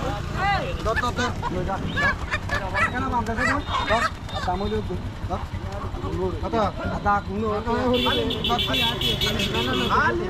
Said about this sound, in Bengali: এই যে ঠিক দেখছেন একটি বাস আসছে, এটি চলে যাবে চট্টগ্রামে।